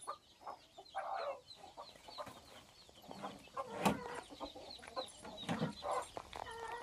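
Chickens and young chicks cluck and cheep around a small farmyard coop, in scattered short calls and squeaks, some near and some farther off, over a quiet outdoor background.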